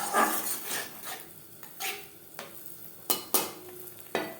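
Turmeric spice paste with spice-rinsing water sizzling in a pan for katla fish tel jhal, stirred with sharp scraping strokes and a few louder clanks of the utensil against the pan.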